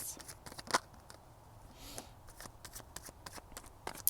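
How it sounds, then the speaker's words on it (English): A deck of tarot cards being shuffled and drawn, quick papery riffles and soft slaps in short bursts, close and fairly quiet. "See if we can get any more cards from this deck."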